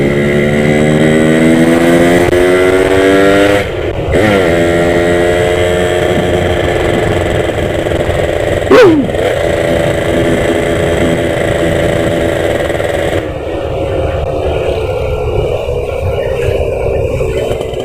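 A Yamaha RX-King motorcycle pulls away as the clutch is released, its engine loud and close, the pitch climbing steadily, then dropping briefly and climbing again through gear changes before settling into a steady run.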